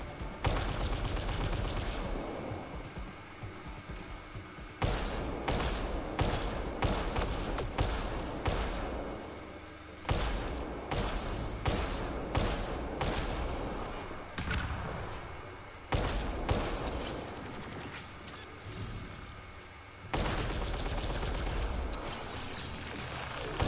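Continuous, dense gunfire from the sci-fi shooter game Mass Effect: Andromeda, with rapid bursts and heavy impacts repeating across the whole stretch, loud and close, with brief pauses between volleys.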